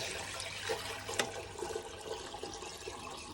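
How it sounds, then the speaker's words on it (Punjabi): Water splashes and gurgles continuously as it is poured to fill a pigeons' drinking container, a close, even rushing pour with one brief sharper clink. "ਪਾਣੀ ਦਿੱਤਾ ਭਰ"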